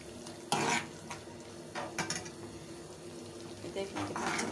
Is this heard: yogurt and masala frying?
yes